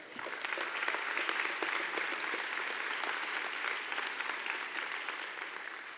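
A crowd applauds at the Salesforce Transit Center opening ceremony, sustained dense clapping filling the space at an even level without voices.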